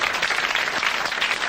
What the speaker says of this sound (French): L'abbé Pierrelot de Méault a gagné 1000 francs, vous l'applaudissez très fort.